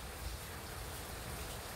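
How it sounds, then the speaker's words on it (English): Summer rain falls outdoors in a steady, even hiss of drops spread across the surroundings, continuous and moderately faint with no voices. "It's raining, but it's still pretty,"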